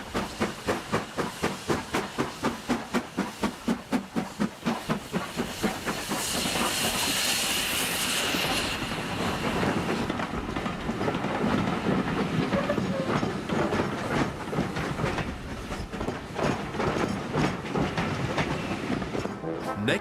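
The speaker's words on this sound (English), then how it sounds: "The two engines are now steaming together at last, with hundreds of excited passengers in the carriages behind them." Two steam locomotives run together hauling passenger carriages, with rapid rhythmic chuffing at first, then a loud burst of steam hiss and a steady rolling rumble of wheels on rails.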